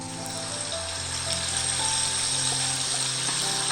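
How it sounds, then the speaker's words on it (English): Sambal belacan paste, made with fermented shrimp paste, sizzles and crackles steadily after going into 300 millilitres of hot oil in a pan, a dense, even frying hiss with a low hum underneath. "So once the oil is hot, pour in our sambal paste."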